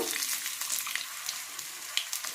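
Coconut oil hissing in a hot pan, a steady bright sizzle with scattered small pops and crackles throughout, fairly close and with no voices.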